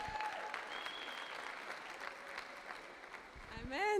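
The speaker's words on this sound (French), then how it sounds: "une belle acclamation pour sa vie." A church congregation at a Pentecostal convention gives a sustained round of applause that fills the room steadily, and a voice begins speaking as the clapping carries on at the end.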